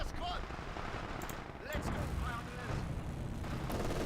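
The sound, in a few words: gunfire in battle, video game Company of Heroes 2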